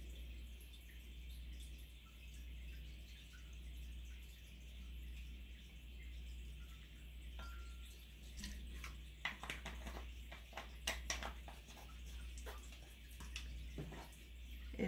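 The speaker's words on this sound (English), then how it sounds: "I'm going to pour orange soda first" Orange soda is poured into a cocktail glass, a faint fizzing trickle with light clinks that turns into a few sharper splashes toward the end over a low steady hum.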